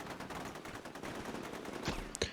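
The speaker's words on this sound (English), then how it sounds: "Sure enough, gunfire starts coming from the left" Rapid gunfire rattles in the war game Combat Mission Shock Force 2, a dense, fairly distant stream of shots under background battle noise, with a couple of sharper, louder reports near the end.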